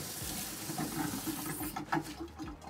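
Water splashes and trickles in a basin as it is rinsed during a bed bath, a steady close wash of running water lasting a few seconds, with no voices.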